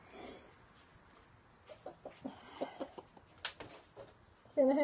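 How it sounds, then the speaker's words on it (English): A pet chicken clucking near someone's feet in a pottery kiln shed, a series of soft, short clucks and murmurs close by, ending in a louder squawk. "The chicken's right here by my feet."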